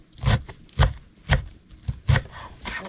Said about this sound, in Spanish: voy a seguir picando. Lo voy a picar en cuadraditos un poco.